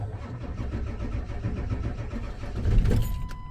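A 7.3 Powerstroke diesel truck with an ICP sensor problem cranks over with a steady, rhythmic churning for several seconds. It grows louder and rougher near the end, close by, with no talking.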